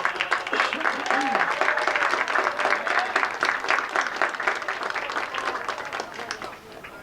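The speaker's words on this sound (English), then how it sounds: "let's give the parents a big round of applause" Crowd at a high school boys' varsity lacrosse game applauding the senior players' parents, sustained clapping and cheering that stays strong for several seconds before tapering off near the end.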